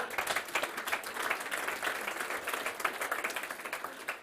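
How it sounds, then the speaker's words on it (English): An audience at a startup competition grand final in Germany gives sustained applause, a dense patter of many clapping hands at moderate loudness, continuous and even throughout. "big applause for you."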